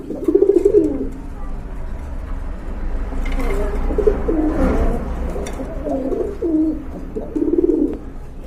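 Domestic pigeons coo repeatedly in low, throaty bursts near the start and end, with softer cooing in between over a steady background murmur of a pigeon market, where a voice talks faintly at times.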